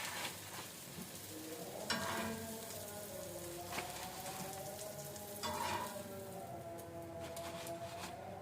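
An omelette fries in a pan with a steady, soft sizzle and crackle throughout. A melodic voice rises and falls faintly in the background.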